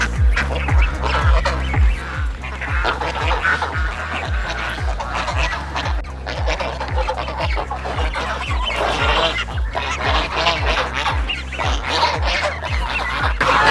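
A flock of about 200 ducks on a farm quacking together in a dense, continuous chorus, loud and close, with repeated overlapping calls throughout.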